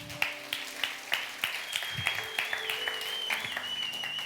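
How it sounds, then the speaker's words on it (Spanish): A church congregation claps together in a loud, steady round of applause, many hands beating at a brisk regular rhythm, with a faint sustained tone running underneath. "Den un fuerte aplauso a su Dios"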